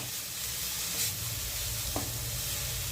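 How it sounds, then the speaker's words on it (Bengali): Spiced fried radish being stirred in a pan for radish paratha filling, a steady close sizzle with soft scraping strokes, no talk. "দিয়ে ভাজা মূলোটার সাথে খুব ভালোভাবে মিশিয়ে নিচ্ছি।"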